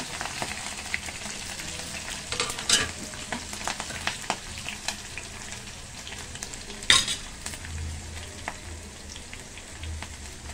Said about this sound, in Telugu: పచ్చిమిర్చి, తర్వాత ఎండుమిర్చి కూడా వేసా